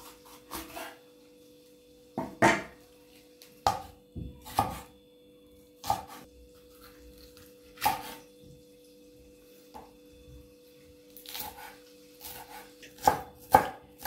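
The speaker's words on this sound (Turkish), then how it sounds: "Sonra biberlerimizi, kapya biberlerimizi doğruyoruz küçük küçük." Red capia peppers being chopped on a cutting board, a dozen or so sharp knife knocks spaced irregularly over near silence, close and crisp.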